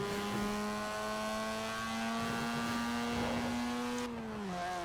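A stock Mazda Cosmo's rotary engine in the racing game Forza Horizon 4 holds a buzzy, steady drone, rising in pitch as it revs, then dropping off near the end, heard alone without talk.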